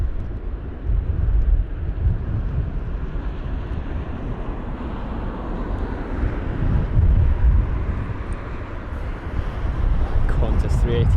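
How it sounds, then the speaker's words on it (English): A British Airways Airbus A380 passes at London Heathrow during Storm Kathleen, a broad, steady jet roar mixed with heavy wind buffeting the microphone, swelling slightly in places, with a voice talking over it. "There's the A380 of BA."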